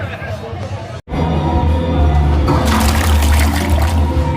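A toilet flushes in the loos of a live music venue, water rushing loudly and continuously after a brief cut, with crowd hubbub and band noise bleeding in behind it.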